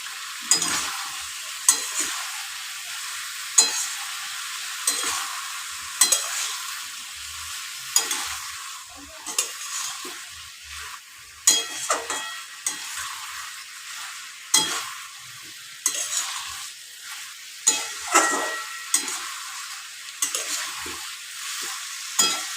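Potato and eggplant curry frying in a little oil in a pan, with a steady soft sizzle broken by repeated sharp scrapes and clatters of a spoon stirring, close by and with no talking.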